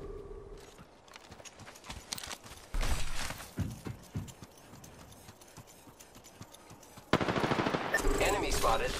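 Rapid automatic gunfire in the Apex Legends battle royale game, with bursts of loud, close shots, clattering impacts and a sustained volley near the end.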